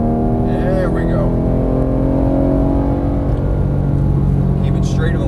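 A Porsche 911 GT3 (991) held in fourth gear at full throttle, a loud continuous engine roar with rising harmonic tones, constant and close, heavy rumbling wind and road noise underneath.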